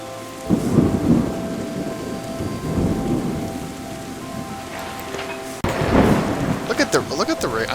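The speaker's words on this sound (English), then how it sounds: "Look at the rain. I love the rain effect." Rain and thunder in the video game Terra Nil: steady rainfall with deep rolling thunder claps near the start and again toward the end, loud and full in the game mix.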